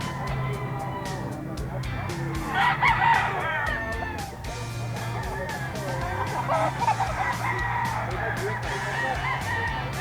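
A gamefowl rooster, a Spangle, crows repeatedly at close range in an outdoor grotto, with other fowl calling and clucking in the background and a low steady hum underneath.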